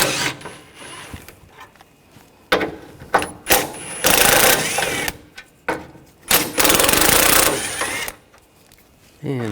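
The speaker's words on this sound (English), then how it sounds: "Take these bolts out. Use a 13mm socket." Bolts being taken out with a 13mm socket on a Nissan Rogue radiator and condenser fan assembly: loud bursts of rapid mechanical whirring and ratcheting, each lasting a second or so, separated by short quiet gaps.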